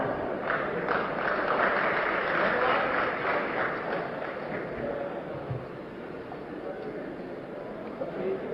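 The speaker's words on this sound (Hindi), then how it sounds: "जोरदार तालियां" An audience gives loud applause as former chief minister Akhilesh Yadav is welcomed on stage, a dense, continuous wash of clapping that stays strong throughout and eases slightly toward the end.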